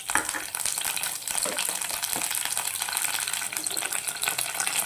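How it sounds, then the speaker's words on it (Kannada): Curry leaves hit hot oil for a tempering and sizzle loudly, a steady, dense crackling hiss that runs unbroken and close throughout. "ನಾನಿಲ್ಲಿ ಒಗ್ಗರಣೆ ಕರಿಬೇವು ಹಾಕ್ತಿದ್ದೀನಿ."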